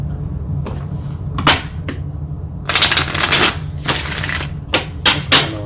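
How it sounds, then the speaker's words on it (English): A deck of tarot cards is shuffled close by, with sharp bursts of riffling and a few soft taps in between. "Just going to give it a quick shuffle."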